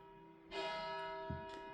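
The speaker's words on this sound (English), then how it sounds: "church bells here because I'm currently studying in Germany, and they are letting me know what time is it every time." Church bells in Germany ringing the hour, a sustained resonant bell tone with overlapping harmonics that swells in with a new stroke and lingers, heard alone at moderate distance.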